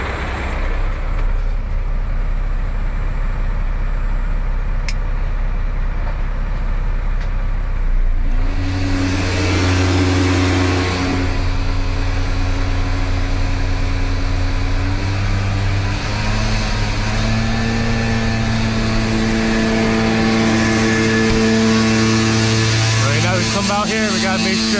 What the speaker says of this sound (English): Now we turn on the PTO. The PTO is basically going to get the system running for the suction.